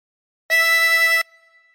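One steady chromatic harmonica note drawn in through hole 6, bright and reedy, held for under a second, close and alone, then a faint ringing tail.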